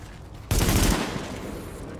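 Gunfire in the video game The Division, a sudden loud burst of shots that decays into sustained noisy rumble over a busy background.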